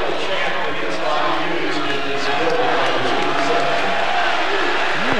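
A packed basketball arena crowd at a 1998 Indiana–Temple game roars loudly and continuously after a tying jump shot, a dense wall of cheering heard close and steady throughout.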